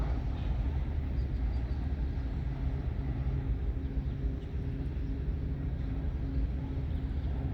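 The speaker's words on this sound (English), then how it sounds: "There's a view of the train that's been making all the noise." A long freight train passes on the CP main line with a low, steady rumble and droning engine hum, moderately distant and continuous throughout, without speech.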